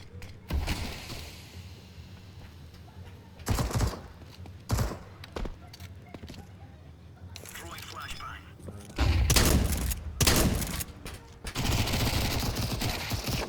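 Bursts of Galil rifle fire in a competitive video game match, rapid automatic volleys of varying length scattered across the clip, with louder sustained shooting near the end.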